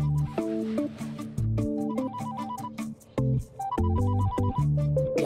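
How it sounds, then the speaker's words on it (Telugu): A mobile phone ringtone plays a bright, repeating electronic melody of stepped tones, loud and close, with brief gaps between phrases and no talking over it. "సర్లే గానీ ఆ ఫోన్ చూడు."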